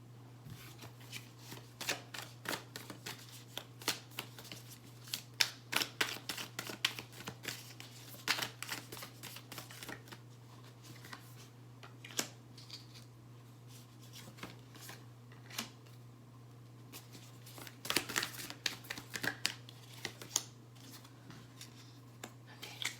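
Tarot cards are shuffled close by in repeated soft riffling bursts with short pauses, over a low steady hum in a quiet room.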